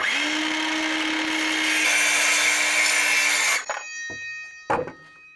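A DeWalt metal-cutting circular saw cutting through wood: a loud, sustained high whine with a steady motor tone for several seconds, then it cuts out abruptly, followed by a couple of short bursts of knocking and clatter nearby.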